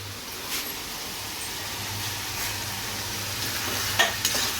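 Potato and parwal sabzi frying in a pan over high heat, a steady soft sizzle with a few scraping stirs of a spoon, close and alone without voices.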